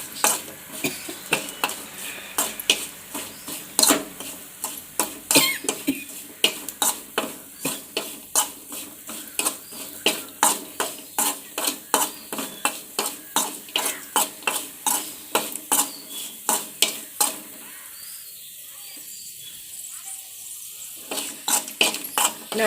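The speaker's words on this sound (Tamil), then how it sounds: "முந்திரி போட்டு நல்லா அதை வதக்கி விட்டுட்டே இருங்க." Cashews stirred and sautéed in a pan over low heat, a steady run of sharp, close scraping strokes with a soft sizzle beneath, pausing briefly near the end before the stirring resumes.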